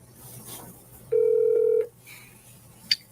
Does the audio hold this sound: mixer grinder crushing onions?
no